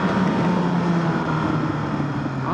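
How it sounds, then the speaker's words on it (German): A bus passing along a city street gives a steady, moderately loud engine rumble and broad traffic hiss with no break. "Dieser Bus ist nicht wunderschön"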